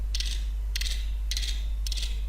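Four crisp mechanical clicks, evenly spaced about half a second apart, sound close up over a steady low hum.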